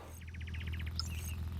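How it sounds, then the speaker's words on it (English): Ambient bird calls in the video game Halo Infinite: a quick run of rapid chirps followed by a few thin whistled notes, fairly faint over a steady low hum. "No music, just a few bird sound effects."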